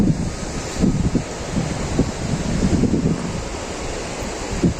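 Steady rushing water of a mountain river swollen by rain, with a broad, continuous roar and gusts of wind noise, no voices.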